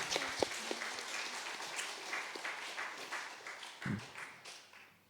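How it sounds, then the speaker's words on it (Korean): Congregation applauding in encouragement after a personal testimony at a Thanksgiving Sunday church service, a soft, steady patter of many hands held at a distance for the whole stretch. "격려 박수하겠습니다"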